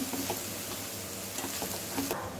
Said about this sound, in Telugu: సో బాగా కలిపేసుకుంటే కలిసిపోతుంది.